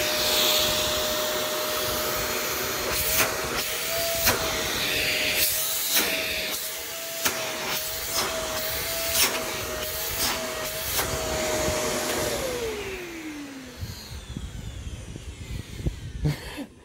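A thrift-store vacuum cleaner with a rough-sounding motor whines loudly with a steady pitch and several sharp clunks, then spins down with a falling tone before rattling noises.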